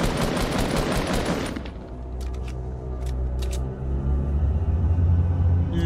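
Fortnite gunfire aimed at the cube, a loud, dense rapid burst of shots for about a second and a half, then it cuts off and leaves a low rumble with a few faint clicks.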